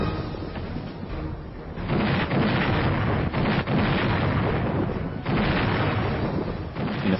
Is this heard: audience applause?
no